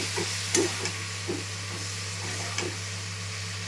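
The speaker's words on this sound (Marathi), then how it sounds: "शेवगा टाकून घेऊया. फ्राय करून घेऊ." Drumsticks (moringa pods) fry in a pan with a low steady sizzle. Occasional soft stirring scrapes and light clinks sound close by, with a constant hum behind them.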